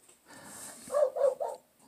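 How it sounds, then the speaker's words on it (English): Dogs barking outdoors in snow at a large snow figure, three quick rising barks in a row after a quiet lead-in, moderately distant and without speech over them. "Barking at my giantess snow woman."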